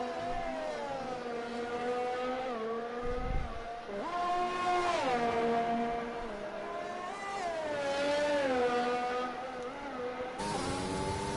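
Race car engine in a racing video game on an out lap at Italy, a steady high-pitched whine with rising and falling revs through gear changes, heard alone without talk.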